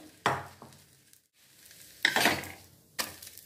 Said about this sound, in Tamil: முட்டை கலவையை நல்லா 2 பக்கமும் பொரிஞ்சு வரட்டும்.